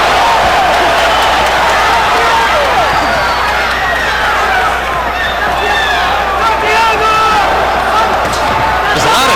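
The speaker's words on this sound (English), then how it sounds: "There's a lot of cheering and excitement in the arena." Crowd in a boxing arena at the Floyd Mayweather Jr. vs Victoriano Sosa fight: a loud, continuous roar of cheering and babbling voices, dense and unbroken throughout.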